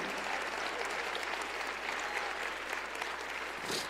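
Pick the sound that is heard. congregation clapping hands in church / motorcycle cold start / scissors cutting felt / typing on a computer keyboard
congregation clapping hands in church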